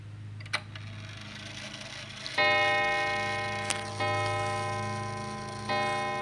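A freshly oiled mechanical clock ticks softly up close, joined by several bright, ringing metallic tones that strike and slowly decay.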